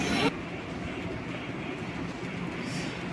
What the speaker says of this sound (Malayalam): ട്രെയിൻ എടുത്തു കേട്ടോ, കറക്റ്റ്